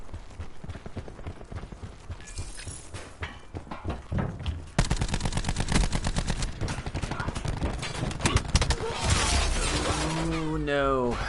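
Rapid automatic turret fire in Black Ops 4 rattles as dense, continuous bursts through most of the stretch, with sharp cracks and clattering impacts and a voice talking over the mix.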